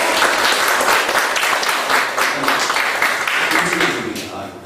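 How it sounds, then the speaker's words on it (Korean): Audience applause welcoming a speaker to a lecture, a dense, steady wash of clapping from a room of people that holds loud throughout and eases slightly toward the end, with some voices mixed in. "큰 박수로 맞이하겠습니다"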